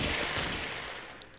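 Sniper rifle shots in the Ace of Spades video game, a dense burst of gunfire at the start that quickly fades into a hissing tail, with a faint click near the end.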